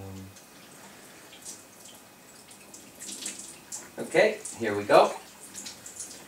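Water runs from an Enagic SD501 Kangen water ionizer set to level 3 for 9.5 pH water, a soft, quiet flow with splashy bursts near the end, and a person speaks briefly over it.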